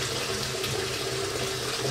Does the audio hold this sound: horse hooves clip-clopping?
no